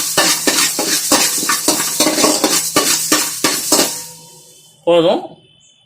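Mustard seeds sautéing dry in a pan for tomato pickle, with a steady run of rhythmic spoon scrapes and stirring clatter, then a brief louder knock near the end before it fades quiet.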